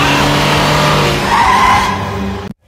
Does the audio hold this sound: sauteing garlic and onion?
no